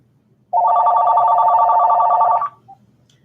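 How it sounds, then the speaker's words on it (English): Telephone rings once with a steady electronic tone lasting about two seconds, close and clear against a quiet room, with no talk over it. "let me call you back, Kay"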